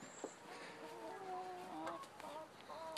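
Chickens on a Vermont farm cluck and murmur in a steady low chatter, fairly close and moderately loud, with brief overlapping calls and soft background noise.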